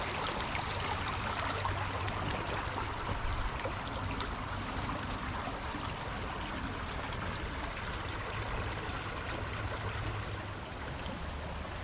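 Creek water flowing steadily, a soft continuous rushing and trickling with no voices, even throughout.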